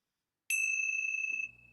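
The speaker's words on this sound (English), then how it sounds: "And let's close our time together with the ringing of the bell." A single bright strike of a bell closes a meditation session, ringing out clearly after silence and sustaining for about a second before fading into a low hum.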